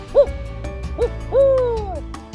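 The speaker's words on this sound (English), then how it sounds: "we heard 2 owls" An owl hooting at a bog, three clear close hoots, the last one longer and drawn out, over quiet outdoor background.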